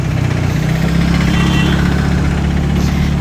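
A TVS Ntorq XT 125 scooter engine runs with a steady, close, continuous hum and vibration for the whole stretch, with no voices over it, on a rainy Sunday ride.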